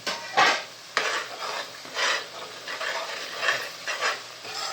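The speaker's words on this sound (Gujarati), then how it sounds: "હવે એને પાકવા દેવાનું છે, હલાવતા રહેવાનું." A spoon stirs prawn curry in masala in a pan, giving repeated scraping swishes with a soft sizzle beneath, close and fairly loud, with no talking.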